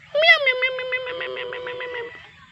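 A white cat on a quiet countryside property gives a single drawn-out meow, close and clear, rising and then trailing off over about two seconds.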